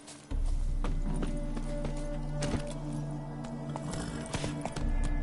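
Roach, the horse in The Witcher 3, thuds along in steady clip-clopping hoofbeats, loud and close, with game ambience and brief in-game voices around it.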